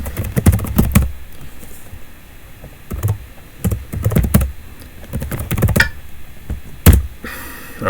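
Typing on a computer keyboard, bursts of crisp rapid key clicks close up, separated by short pauses, ending in a quick run of keystrokes, with no talk over it.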